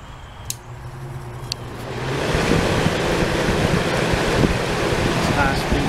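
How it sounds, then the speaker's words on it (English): Crest (Fedders) Carry Cool fan motor running after cleaning and oiling, a steady broadband whoosh that grows noticeably louder about two seconds in and then holds an even, continuous roar with a couple of faint clicks early on. "Here's the first test of the fan motor since cleaning and oiling."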